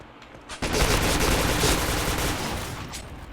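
A sudden burst of rapid gunfire in a video game erupts and continues as a dense, loud rattling barrage that slowly fades.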